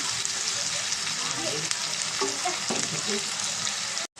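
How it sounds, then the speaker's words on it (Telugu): Onion and tomato frying in a pan for chicken curry, a steady loud sizzle with a few stirring scrapes, cut off abruptly near the end. "బాగా ఫ్రై అవ్వాలి కలుపుకొని ఇద్దాం టమాటా కూడా"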